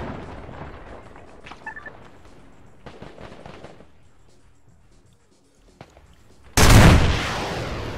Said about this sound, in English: Hearing grenades cook off.